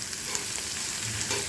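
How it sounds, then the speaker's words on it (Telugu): Onions and green chillies sizzling steadily with cumin in a hot pan, a close, continuous hissing fry with faint stirring clicks and no voices. "జీలకర్ర వేగాక ఉల్లిపాయలు పచ్చిమిరపకాయలు వేసుకుని బాగా వేయించుకోవాలి."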